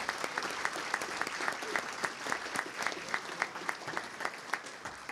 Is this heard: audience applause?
yes